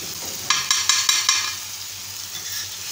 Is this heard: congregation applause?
no